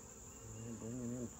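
Honeybees hum steadily at an open hive as foragers bring in pollen and nectar, a close, continuous buzz with a rising tonal drone in the middle of the short stretch.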